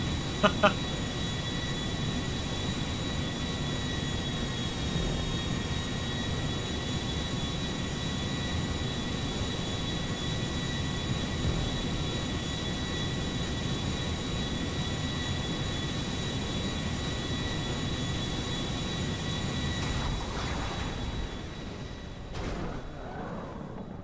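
A Boeing 747 airliner in GTA Online, flaps down, gives off a steady, continuous jet engine whine and roar with high tonal hums that hold for the whole stretch, fading at the very end, with game chatter faint underneath.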